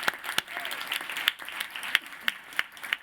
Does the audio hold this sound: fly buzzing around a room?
no